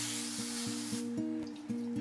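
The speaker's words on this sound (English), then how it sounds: "I'll just take some olive oil and spray" Olive oil sprayed from a pump bottle onto an old refrigerator rack used for smoking salmon, a steady close hiss for about a second that fades out over a low background hum.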